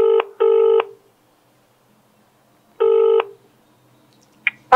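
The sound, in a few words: telephone dialing a number, call ringing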